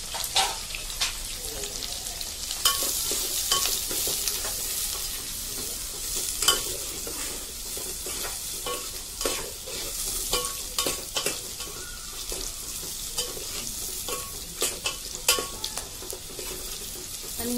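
Mint leaves and spices sizzle and spatter in hot oil in a pan for Telangana-style chicken curry, a steady close frying hiss with crackles and the occasional stir running throughout, no talking over it.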